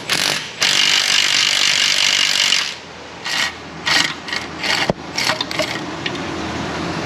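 A pneumatic impact gun rattles in a long burst, then fires several short bursts loosening an engine mount bolt on a Cadillac Escalade ESV 6.2, against a noisy workshop background.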